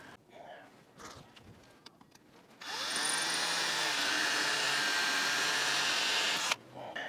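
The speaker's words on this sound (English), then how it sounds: "then we'll screw it down with our drill" A power drill drives screws to fasten a tow protector meant to guard a car towed behind an RV. After a few quiet handling noises, it runs in one loud, steady whir for about four seconds, then stops abruptly.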